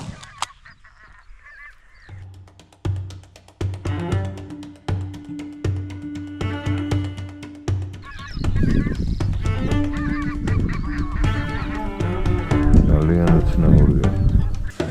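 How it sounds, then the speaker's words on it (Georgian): A large flock of geese honks loudly overhead during a goose hunt in Belarus, starting sparse and building to a dense chorus, with people talking over it. "ძალიან დიდი რაოდენობის ბატი გადმოვიდა თავზე"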